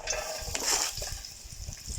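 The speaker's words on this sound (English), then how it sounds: "It sizzles up straight away." Sliced onion hitting hot vegetable oil in a pan gives a steady, close sizzling hiss, with soft stirring scrapes and light utensil clatter mixed in.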